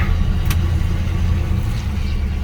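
A 1984 Chevrolet Squarebody truck with an Edelbrock carburetor, running lean, keeps up a loud, steady, low engine rumble for the whole stretch with no pause.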